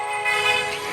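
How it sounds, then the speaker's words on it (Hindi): A horn sounds in the background as a sustained, steady tone, with a train-like timbre, lasting through the whole brief moment at moderate distance. "और पीछे आपको हॉर्न की आवाज़ सुनाई दी"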